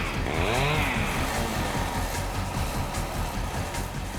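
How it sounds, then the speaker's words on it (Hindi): A recorded motorbike engine runs as a dense, buzzing drone, opening with a rising whine as the revs climb and then holding steady and loud to the end. "रुको, हम तुम्हें कुछ बाइक्स की आवाजें सुनाएंगे"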